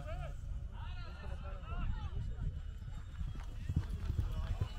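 Horse hooves galloping at a tent pegging event in Bradford, a steady run of clip-clop beats under continuous crowd murmur and a commentator talking throughout.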